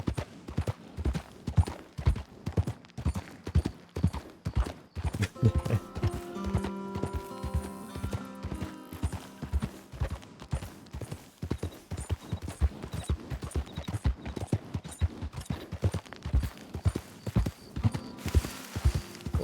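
Horse hooves clip-clop steadily in the Red Dead Redemption 2 video game, a brisk regular rhythm of close, crisp hoofbeats, joined midway by a brief whinny-like tone, with no talk.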